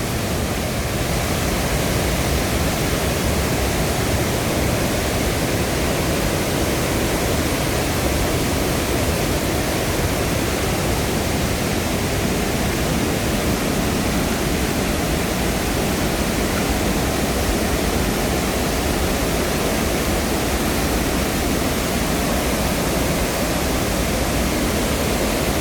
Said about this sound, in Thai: น้ำไหลอีนี้